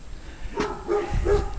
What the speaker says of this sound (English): And that's poor Blackie barking. Tied to a tree, barking.